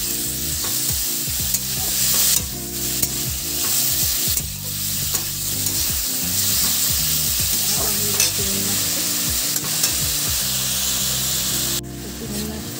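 Prawns frying in a pan with oil, a loud continuous sizzle broken by repeated scraping stirs from a spatula, close and steady throughout.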